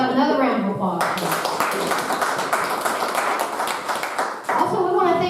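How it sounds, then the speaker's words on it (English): Audience applause at a McCreary County constable candidate debate: a dense, steady wash of clapping from a live studio crowd fills the middle of the clip, with a voice speaking before it begins and again as it fades. "So how about another round of applause?"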